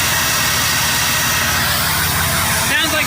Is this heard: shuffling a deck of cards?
no